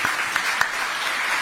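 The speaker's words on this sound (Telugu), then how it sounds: "అందరు చప్పట్లు కొట్టండి మరి" An audience at a public event claps in a dense, steady burst of applause filling the short moment.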